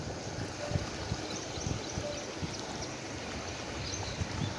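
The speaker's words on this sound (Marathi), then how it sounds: "किती भाव आहे पाण्याला बघा" Water rushes at the three gates of the Siddheshwar dam in Maharashtra, a steady, dense, broadband roar that holds constant with no voices over it.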